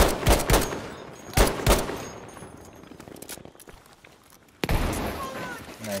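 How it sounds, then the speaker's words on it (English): Grenade blast and bursts of gunfire in a first-person shooter video game, several loud sharp booms early, then a hush before another hard blast near the end, with players' voices now and then. "Nice grenade"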